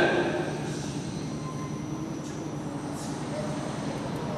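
A steady, broad rumbling roar of a Frecciarossa high-speed train passing through Bologna Centrale station at platform 18, echoing through a large space, with faint voices blended into the noise.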